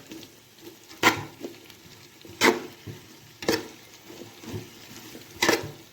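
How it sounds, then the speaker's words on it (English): Beef and vegetables are stirred together in a pan, giving irregular scraping knocks roughly every second over a low simmering background, close by with no talking. "So I'm going to stir them all together so that the veggies can start to release their flavor into the beef"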